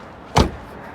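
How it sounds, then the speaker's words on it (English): A car hood is opened once at an auto auction yard, a single short clunk standing out sharply against quiet surroundings. "I wonder if that hood opens."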